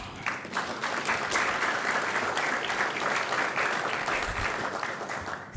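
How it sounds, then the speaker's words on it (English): Audience at a business and investment forum applauding: steady, sustained clapping from many hands across the hall, fairly uniform throughout with no talk over it. "I want to give us a round of applause"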